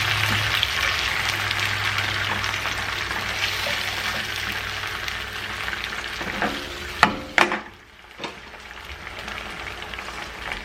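Meatballs sizzle steadily in a frying pan for a homemade meatball sandwich, a constant close frying hiss, then a few sharp clatters and scraping knocks around the middle as they are turned, with the sizzle continuing afterward.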